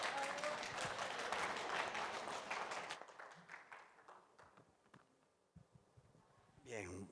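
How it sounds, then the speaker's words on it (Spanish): Applause from the audience at a technical conference on mineral processing and extractive metallurgy, fairly dense for three seconds before thinning out into scattered claps and ending in a brief murmur of voices. "Un aplauso, por favor."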